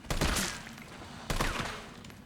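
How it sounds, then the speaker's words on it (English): Gunfire from a boss fight in the Resident Evil 3 Remake video game: two loud, broadband bursts about a second apart, each trailing off into a rumbling decay, with no talking. "I've been shooting at this asshole for like 10 minutes now"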